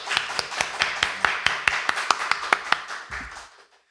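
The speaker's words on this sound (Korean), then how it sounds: "다시 한번 큰 박수 한번 드립니다" A church congregation at a Sunday worship service claps in a small, loose burst of sharp, distinct hand claps that tapers off and ends in silence.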